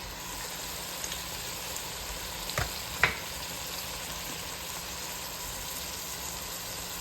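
Chili ingredients fry in a pot for a cozy chili dinner, giving a steady, even sizzle throughout with a couple of brief sharp clicks of utensils near the middle.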